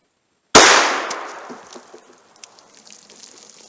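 A .38 Special wadcutter fired into a baloney pack and water jugs: one sharp, loud gunshot crack followed by a decaying splash and scattered drips and clatter.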